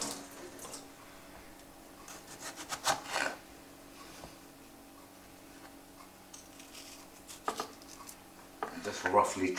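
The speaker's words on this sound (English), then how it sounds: "Just roughly chop your tomatoes." Knife roughly chopping tomatoes on a board for homemade tomato and basil soup, scattered irregular cuts and scraping taps with quiet gaps between bursts.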